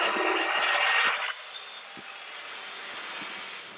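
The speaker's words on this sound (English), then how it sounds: "we've got a rubbish truck just next to me, so sorry about the noise" A rubbish truck running close by gives off a loud, broad roar and hiss for just over a second, then drops to a quieter, steady background rumble.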